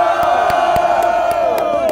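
A crowd roars and whoops at a Brazilian rap battle semifinal, a dense sustained cheer held loud throughout, broken by a steady beat of thumps underneath.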